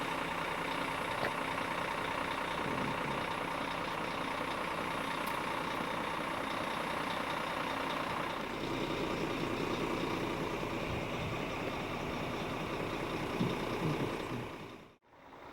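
A bus engine idles at a stop by the Ouyen Community Centre in rural Victoria, a steady close rumble with a faint warning beep, holding for over fifteen seconds before a sudden drop.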